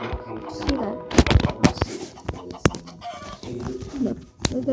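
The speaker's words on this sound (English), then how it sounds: "Oh god, a chicken." A chicken in a mining video game clucks in short, repeated bursts amid sharp clicks and impacts, mixed with other game sounds and voices talking over it.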